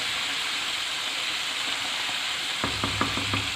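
Tandoori chicken cooking in a pan gives off a loud, steady sizzle from up close, and near the end a few rhythmic metallic scrapes and clicks join in as the pieces are moved around.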